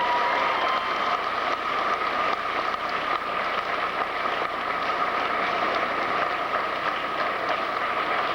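Applause from a crowd at a graduation ceremony, a dense, even wash of many hands clapping that holds steady throughout, with no talk.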